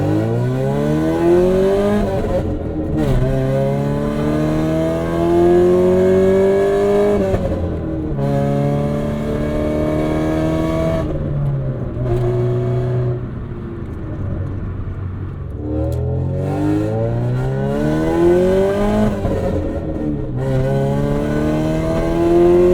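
A 1990 Acura Integra RS with 400,000 miles, its engine running a little rich, revs repeatedly: loud close rises and falls in pitch over a steady idle, several throttle blips in a row.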